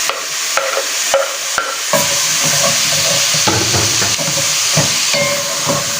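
Onion stirred in a hot pan on a home stove at night, sizzling and frying steadily with repeated scraping strokes of the utensil, close and fairly loud, with no talking.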